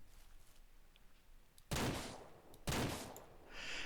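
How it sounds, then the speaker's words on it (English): Two loud, sharp gunshots from a hunting revolver in the Ranch Simulator game, spaced about a second apart, each with a short decaying tail over quiet ambient background. "we will shoot him then"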